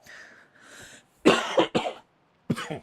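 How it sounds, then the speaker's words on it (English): A few close, forceful coughs in quick bursts, followed by a brief pause and one more cough. "One final cough to see you through."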